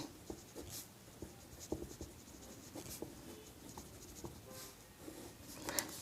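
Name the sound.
writing the lens formula by hand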